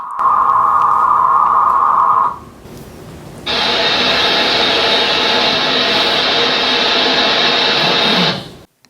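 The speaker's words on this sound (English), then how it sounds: "Sounds like static, but it's actually communication going on right there." Ham radio digital mode transmission, a steady hiss-like static burst: a short narrower tone-like band for about two seconds, a brief gap, then a louder broad continuous noisy signal lasting about five seconds before cutting off.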